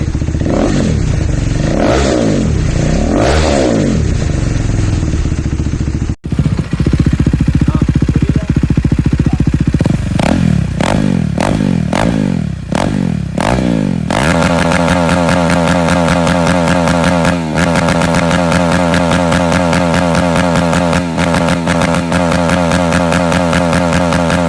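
A motorcycle fitted with an aftermarket Austin Racing exhaust revs loudly and close up, with rapid throttle blips giving way to a sustained high-revving roar that stays strong to the end.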